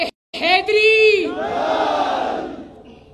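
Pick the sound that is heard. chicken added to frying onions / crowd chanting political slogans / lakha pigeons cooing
crowd chanting political slogans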